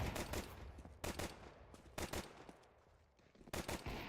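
Rapid automatic gunfire in a competitive first-person shooter match, sustained bursts of rattling shots broken by brief pauses, loud and close, with no talk over it.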